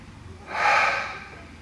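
A single deep breath during a Pilates exercise, a breathy airy rush that swells and fades over about a second, close and fairly clear.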